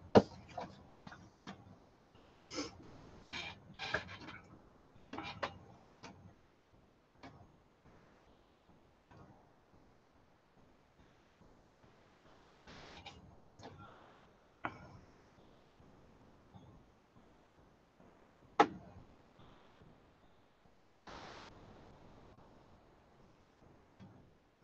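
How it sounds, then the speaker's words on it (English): An office printer running, a faint irregular series of mechanical clicks and ticks with occasional louder clacks, continuing steadily in a quiet room without speech. "You're going to hear that a lot today with that printer going."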